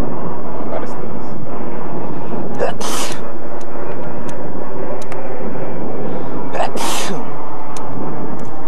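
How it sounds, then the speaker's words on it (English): Two loud sneezes burst out a few seconds apart over a constant roaring rumble, the recording heavily overloaded. "I'm about to sneeze."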